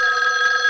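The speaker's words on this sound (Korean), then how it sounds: "그날 밤 외출을 하고 돌아온 그녀에게 또다시 전화가 걸려오죠" A telephone rings indoors at night, a steady, loud electronic trill held briefly with no voices.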